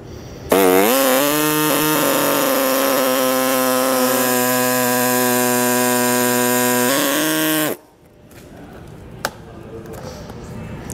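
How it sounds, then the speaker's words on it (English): An air cutter whines loudly and steadily for about seven seconds, revving up and then winding down as it cuts an opening in plastic fascia on a 2022 Chevrolet. Quieter handling noise and a single sharp tap follow. "So with this being plastic, I'm gonna use an air cutter like this."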